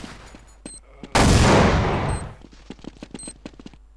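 Gunfire in a competitive round of a video game: a loud, sustained burst of automatic fire for about a second, followed by scattered sharp single shots and clicks in the background.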